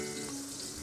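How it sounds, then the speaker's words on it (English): Chopped onion sautés in a little oil in a hot pan, a steady close sizzle with faint stirring, continuous with no talking. "I begin to saute my onion"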